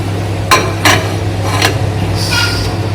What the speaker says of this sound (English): So now it's time for me to keep this tin inside the oven.